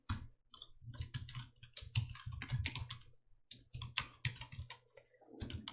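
A computer mouse clicks rapidly in a dense, uneven series of sharp, close clicks with short pauses and no talk.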